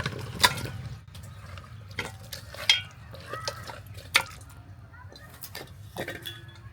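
Spiced beef pieces tip into a small cooking pot with scattered clinks and wet scrapes of metal, a handful of sharp knocks spread over a few seconds against a quiet kitchen background.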